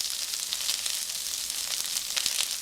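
Onions sizzle in a hot pan alongside jalapeno for spicy cumin fried noodles, a fairly quiet, even hiss with light crackles throughout and no talking.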